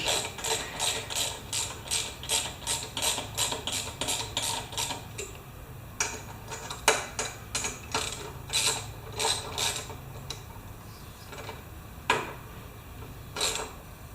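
A ratchet wrench clicking steadily while working on a damaged Poulan Pro mower blade, fast regular pawl clicks in bursts, close and clear, with a few pauses and heavier clanks between runs.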